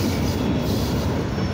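Outbound NS train passing close by: a loud, steady, dense rumble of rolling wagons and wheels that fills the whole moment, with no talk.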